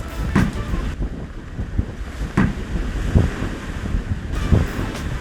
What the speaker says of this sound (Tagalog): Grabe yung lakas ng hangin, no?